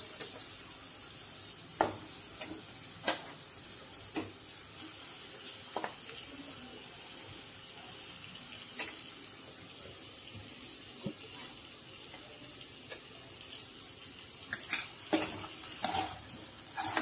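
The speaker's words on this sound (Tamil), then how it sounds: "இப்போ இந்த புதினாவை ஊற வச்ச பேபி பொட்டேட்டோவை மட்டும் எடுத்து போட்டுட்டு மூடி வச்சுட்டு ஒரு 5 நிமிஷம் நல்லா வதக்க விடணும்" Baby potatoes soaked with mint sauté under a lid in onion masala, giving a faint, steady sizzle broken by sharp scattered clicks and scrapes of a spoon against the pan, with no talking.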